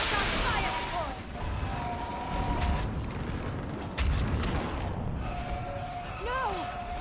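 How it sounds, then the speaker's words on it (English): Heavy bombardment in Mass Effect 3 booms against a building, rumbling blasts and crashes layered with sweeping whine-like effects, while voices shout over the battle. "Bomb that building!"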